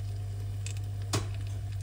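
Iceland frozen pork sausages cook with a faint, steady sizzle over a low hum, broken by one brief crackling pop partway through.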